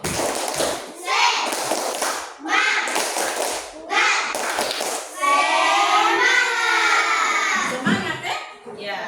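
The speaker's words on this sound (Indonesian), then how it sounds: "Ya, coba tepuk semangat dulu." Classroom children perform the rhythmic Indonesian 'tepuk semangat' clap in several loud bursts, patterned clapping mixed with their shouted chanting voices, separated by short pauses.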